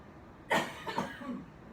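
A single cough, quiet and close, followed by a couple of softer throaty trailing sounds against a faint, near-silent background.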